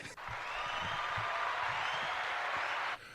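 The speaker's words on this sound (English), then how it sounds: "Love the applause" Sustained applause from a small audience at a talk show's sign-off, a steady, fairly distant wash of clapping lasting about three seconds before cutting out abruptly.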